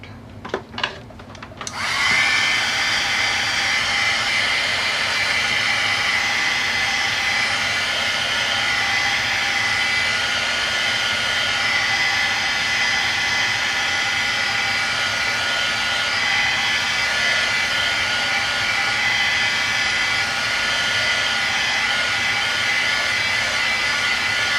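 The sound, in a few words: dryer drying paint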